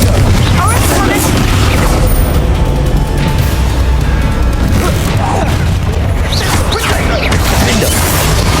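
A blasting-spell explosion in the Hogwarts Legacy game, loud and booming over a dense, constant wash of combat noise, with debris-like crashes layered throughout.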